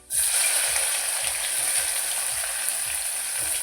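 Onions frying in oil with cardamom, cloves, fennel seeds, dried red chillies and curry leaves for a mutton gravy. A loud, dense sizzle starts abruptly and holds steady throughout, close up with no talking.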